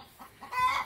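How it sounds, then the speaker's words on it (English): Chickens in a chicken tractor give soft, brief clucks and murmurs for about a second, fairly close against light outdoor background noise. "All I'm going to do is pop the chickens in there."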